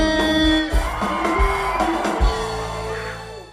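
A concert crowd at an outdoor city park show in Manhattan, Kansas shouts and screams loudly over amplified stage music, with booming beats and a dense, sustained roar of voices.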